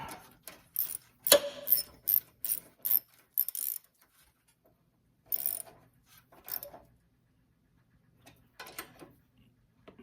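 Metal parts on a snowblower being tightened with a ratcheting tool, a series of close, sharp clicking bursts separated by short pauses.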